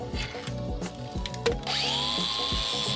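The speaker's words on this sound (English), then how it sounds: "Some more cotter pin grinding" A grinder works a rusted cotter pin on a wheel hub, its motor running in short bursts of uneven clattering before rising into a steady, high-pitched grinding whine near the end.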